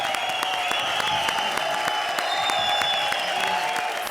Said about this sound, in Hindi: पहले उनके लिए जोरदार तालियां बजाओ।